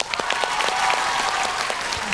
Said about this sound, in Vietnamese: có lẽ chúng ta phải dành một tràng vỗ tay nữa